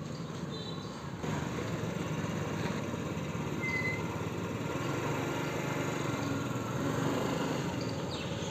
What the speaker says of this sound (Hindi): एक्सीलेटर दे के थोड़ा अपना स्टेप को बढ़ा रही हैं, मतलब थोड़ा अपने स्पीड को बढ़ा रही हैं